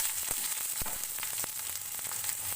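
Chopped onion fries in hot oil in a wok, a continuous close-up sizzle with crisp popping and crackling spatters scattered through it, no voices.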